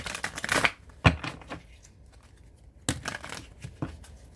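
Bursts of riffling, papery clatter from a deck of cards being shuffled, a quick shuffle early, then a sharp snap and a few later flurries, close by with quiet gaps between.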